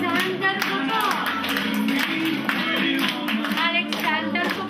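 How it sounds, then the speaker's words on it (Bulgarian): Kindergarten audience, many young children and parents, clapping for a child's costume modeling show at a kindergarten Annunciation celebration; steady, dense applause lasts throughout, with a faint voice and music-like tones underneath. "аплодисменти за моделиране"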